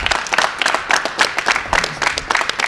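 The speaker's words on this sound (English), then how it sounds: "Let's give him a big round of applause." A small group applauds athlete Jamey Sorrells at a school athletic signing, with uneven bursts of nearby hand claps pulsing in loose rhythm, a few louder individual claps standing out, and no talking.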